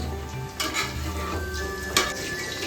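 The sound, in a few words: frying ingredients in pan for drumstick chutney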